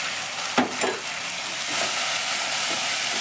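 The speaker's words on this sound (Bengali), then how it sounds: "এবার আমি আদা বাটা দিলাম 2 চামচ।" Onion and ginger paste fry in a pan with a constant hissing sizzle, with a couple of scraping stirs near the start.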